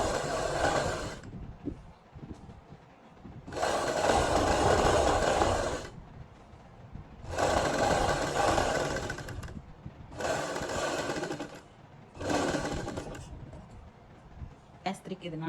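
A sewing machine stitches fabric for an umbrella-machine design, running in four loud, close bursts of a few seconds each, with quieter pauses between them.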